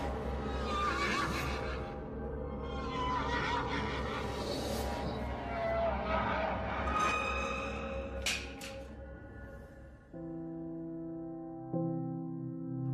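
Horses in a stable whinnying and neighing repeatedly, loud and close, with layered calls over a steady low rumble and a tonal hum toward the end.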